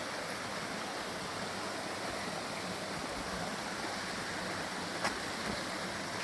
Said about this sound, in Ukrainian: Там під містком струмок тече. Ну, це не струмок, це річка.